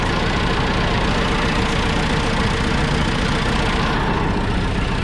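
Old John Deere 2640 tractor engine running steadily at idle, a loud, close, continuous diesel rumble with a faint knocking texture and no talk.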